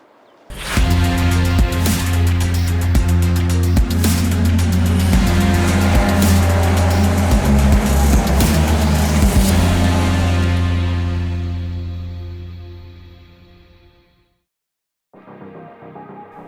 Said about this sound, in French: La Caterham Road Sport remet le couvert cette année pour les courses d'endurance